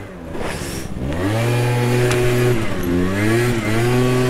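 An 85 SX dirt bike engine revs loud and close, its pitch climbing and dipping through several throttle blips with no talking over it.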